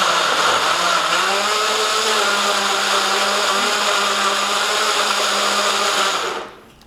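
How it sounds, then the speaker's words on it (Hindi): A countertop blender whirs through a pineapple, spinach and basil smoothie, a loud steady motor drone running close for several seconds before winding down and stopping. "तो हम फटाफट से इसको ब्लेंड कर लेते हैं।"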